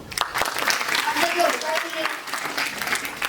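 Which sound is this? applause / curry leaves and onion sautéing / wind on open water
applause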